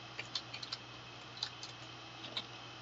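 A computer keyboard typing a short word into a website builder form, with a handful of sparse, quiet key clicks in an otherwise hushed room.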